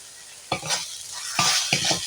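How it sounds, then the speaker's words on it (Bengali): Mashed bitter gourd being stirred with garlic paste in a pan, sizzling with a few distinct bursts of scraping and stirring strokes over a continuous frying hiss. "এই রসুন বাটা দিয়ে এইভাবে একটু নাড়াচাড়া করে নিতে হবে"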